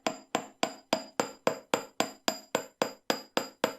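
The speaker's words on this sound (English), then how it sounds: "Then we're going to hammer that bend that we've just made." A hammer strikes bent earring wire on a hard block twelve times in an even, quick rhythm, each blow a sharp, close metallic tap that rings briefly, with no talking.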